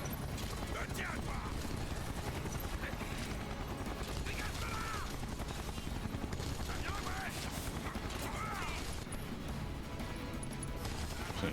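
Helicopter boss battle in Final Fantasy 7 Remake, with dense bursts of gunfire and rotor drone running continuously under faint game voices and music at low level.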